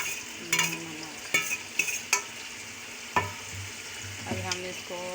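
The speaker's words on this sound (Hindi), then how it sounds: "अब हम इसको अच्छी तरह से भूनेंगे।" Korma masala of ground spices, garam masala and salt being fried and stirred in a pan, with a steady sizzle broken by several sharp spoon scrapes and clinks against the pan.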